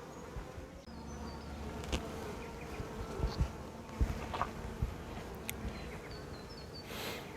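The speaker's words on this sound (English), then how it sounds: "the bees have definitely been making the most of it" Honey bees around a crowded hive give off a faint, steady buzzing hum, with the occasional closer bee passing by and light background noise.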